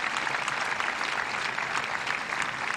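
Steady, dense clapping from a large centre court crowd at a women's tennis tournament, applauding the end of a three-set match, continuous and evenly loud throughout.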